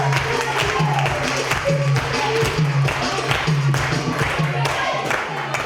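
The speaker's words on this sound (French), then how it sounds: "Applaudissez pour s'il vous plaît." Audience applause at a school competition between a lycée and a collège, a steady mass of clapping held at even loudness throughout, with a low droning tone running beneath it.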